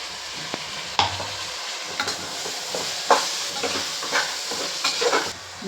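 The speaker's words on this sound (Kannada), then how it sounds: "ಇವಾಗ ರುಬ್ಬಿರೋ ಮಸಾಲ ಹಾಕ್ತಾಯಿದ್ದೀನಿ." Ground masala paste fried in hot oil and stirred in a pan for pulao, with a steady sizzle broken by scraping spoon strokes roughly every second, close and fairly loud, no talking.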